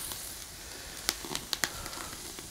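Soft steady sizzling and bubbling of teriyaki sauce near boiling over an open fire, with a few sharp pops and crackles, fairly quiet and close, no voices.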